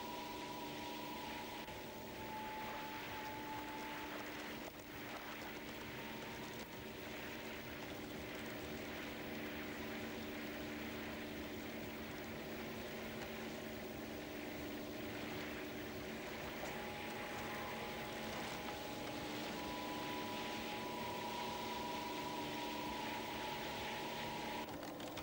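A rotor spins up inside a Taprogge PR BW 800 filter to backwash debris, giving a continuous mechanical hum with a few steady tones throughout, fairly faint and even.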